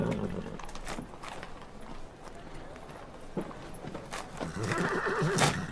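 A horse whinnies and its hooves clop in a period fantasy setting, the neighs and steps mixed with background commotion and other sounds across the clip.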